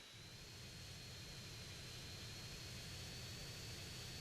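Steady jet engine roar of a hovering aircraft in GTA, a continuous broadband rush with a thin high whine running through it, loud and unbroken throughout.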